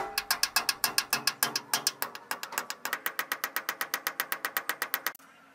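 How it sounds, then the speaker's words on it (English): A ratchet wrench tightening screws with washers to bolt an ATM to the floor: a long run of rapid, even clicks, steady and close, pausing briefly midway before resuming at the same brisk rhythm and stopping abruptly. "you just tighten the screws with a ratchet"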